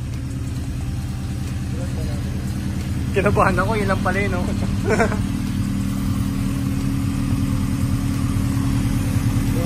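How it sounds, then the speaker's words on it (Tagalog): A Honda Civic with a new exhaust runs at a steady, low idle drone close by. Someone speaks briefly over the continuous engine hum. "ngayon nyo lang narinig, no? Yung bagong exhaust niya"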